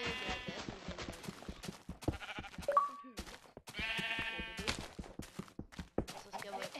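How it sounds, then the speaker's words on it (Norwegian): Sheep bleat in the Minecraft video game, several short wavering bleats spread through the clip, mixed with game noises and a person talking over them. "Men jeg fant jo sau."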